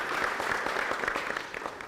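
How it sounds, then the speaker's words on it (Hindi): An audience at a farmers' village gathering in India claps in a dense, steady round of applause, moderately loud and close, with faint voices underneath. "एक बार जोरदार से ताली अपने आप के लिए।"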